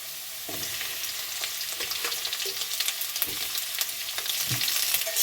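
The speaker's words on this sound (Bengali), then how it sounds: "এবারে দিয়ে দেবো পেঁয়াজ" Onions and potatoes fry together in hot oil in a pan for puti alu jhal, a steady sizzle broken by repeated spatula scrapes and knocks against the pan, close and moderately loud, with nobody speaking.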